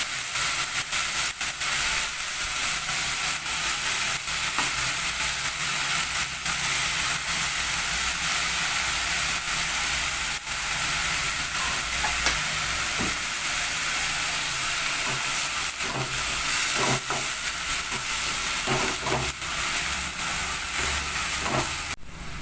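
Banana flower thuvattal, Chettinad style, sautéing in a pan after salt is added, giving a steady, continuous sizzling hiss throughout with no talk over it.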